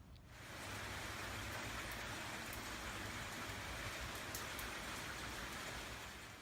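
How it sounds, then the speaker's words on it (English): Rain falls in a steady, dense wash of hiss that fades in and then holds evenly, with occasional sharper drops pattering on a surface, faint and distant-sounding with no voices. "And the rain is back."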